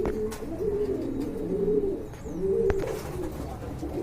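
Pigeons at a Bangladeshi pigeon market cooing in soft, repeated low coos with occasional faint chirps, set against a steady murmur of background market noise.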